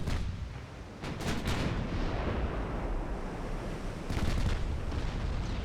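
Naval 6-inch guns firing in a video game, loud booming blasts with rumbling roar, a cluster of shots early and another burst near the end, without voices.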